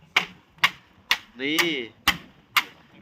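Hammer blows drive nails into timber as villagers move a house, five or six sharp evenly spaced strikes ringing out close by, broken once by a drawn-out vocal sound in the middle.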